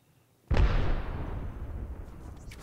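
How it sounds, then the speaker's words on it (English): Arc star grenade detonating in a first-person shooter: a single loud, close burst strikes suddenly after a near-silent moment, then a crackling electric rumble trails off over the next two seconds. "Eat an arc star."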